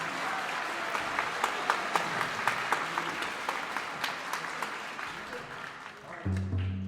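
An audience claps steadily at a middle school honor band concert, a sustained round of applause with distinct sharp claps, fading toward the end as a low hum enters.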